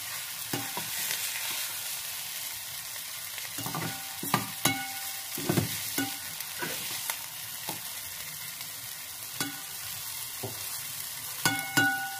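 Sliced onion sautés in a pot with a steady sizzle, broken by repeated sharp clinks and scrapes of a spoon stirring against the metal at an irregular rhythm; no talking.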